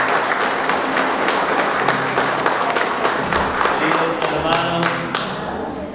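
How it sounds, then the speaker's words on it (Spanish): A crowd gives steady, lively applause at a family Santiago feast-day celebration after Mass, many hands clapping densely and close for several seconds, then gradually thinning out toward the end. "Fuertes palmas para ustedes."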